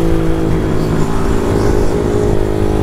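A Start 160 motorcycle fitted with a new sport exhaust runs loud and close, its engine note held steady with a thick low rumble and slight rises in revs, with no voices over it.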